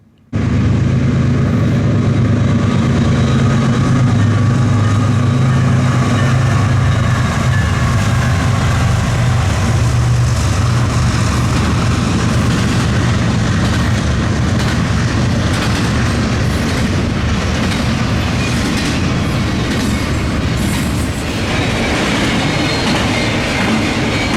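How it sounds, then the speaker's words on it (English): An eastbound Norfolk Southern freight train led by two BNSF GEVO locomotives passes close by, loud and sustained, with a heavy diesel roar, rolling wheel clatter and occasional wheel squeal across the whole span. "Eastbound Norfolk Southern 266, the BNSF transfer, with a BNSF GEVO duo."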